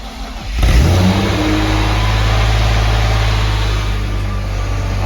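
A BMW E30 fitted with a new muffler cranks and fires up, then holds a loud, steady, close engine roar with a slight rev, no voices.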